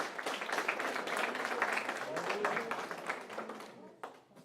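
Dense, crackling applause from a crowd fills the clip, steady and loud before thinning out near the end.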